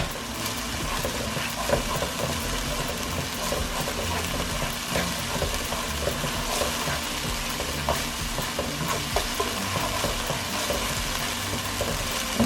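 Creamy garlic chicken cooks in a pan with a loud, continuous sizzle and crackle. The sound stays dense and even with occasional spatters and no voices.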